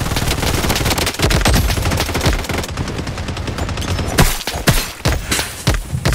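Sustained automatic gunfire fills a Blood Strike match with a shotgun-style loadout, loud and close, with rapid repeated shots and a few sharper blasts toward the end.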